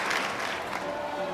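Audience applause in the F1 2020 racing video game at the Spanish race, a loud, steady wash of clapping that fills the whole moment with no voices over it.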